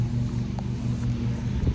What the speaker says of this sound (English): There's the Kubota.